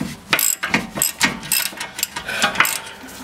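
A ratchet wrench clicks in steady bursts loosening the nut on a suspension end link of an Acura CSX, close and loud, with rhythmic metallic ratcheting repeated about a half dozen times.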